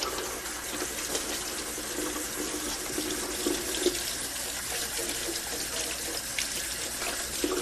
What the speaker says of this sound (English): I'll wash our hands first